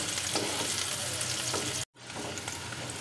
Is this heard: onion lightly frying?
yes